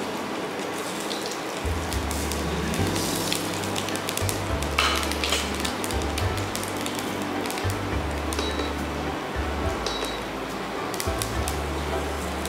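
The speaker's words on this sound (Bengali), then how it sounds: "এবার আমি শুকনো লঙ্কা ফোড়ন দিলাম" Dried red chillies and nigella seeds temper in hot oil with a continuous loud crackle and spatter that sounds like rain, over a low hum throughout.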